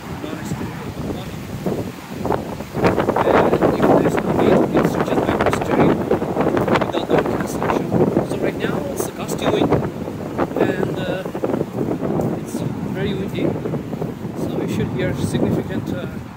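Wind buffeting a GoPro Hero 10 microphone outdoors with wind-reduction processing active, a steady broadband rumble and gusty roar filling the whole stretch, loud and continuous.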